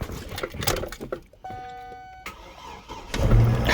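Car engine cranked and started using a drill battery: uneven cranking and clatter, a brief tonal whine, then the motor catching into a rougher running rumble at the end.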